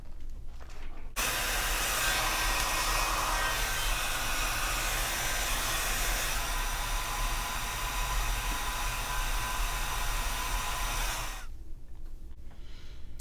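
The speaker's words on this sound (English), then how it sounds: "when I am blow drying" A hair dryer blows on hair being styled with a brush, a steady, loud airy roar that switches on, runs for about ten seconds without a break, then cuts off, with no talking.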